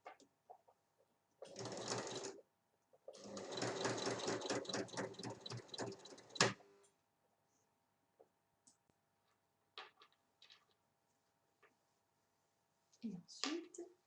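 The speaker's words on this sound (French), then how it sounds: "on va donc piquer à 1 cm comme l'autre côté." A sewing machine stitches fabric for a vanity case in two runs, a short burst and then a longer steady whirring stretch, followed by quiet handling clicks and rustles.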